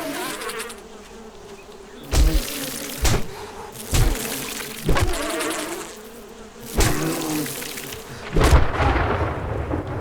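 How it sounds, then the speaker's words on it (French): Bees buzz in a video game as a dense, steady drone with repeated loud thumps and bursts layered over it, like rumbles of thunder, with no speech. "Je vais me faire tuer par des abeilles"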